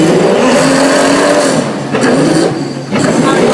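The engine of a 1966 Lamborghini revs loudly and close by at a transport museum, its pitch climbing, dipping briefly, then rising again.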